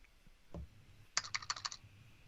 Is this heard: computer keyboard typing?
yes